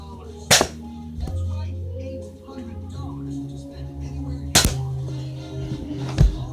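A Nerf blaster fired in slam fire mode gives three sharp snapping clicks, near and loud, spaced about two seconds apart, over a steady low hum and faint background noise.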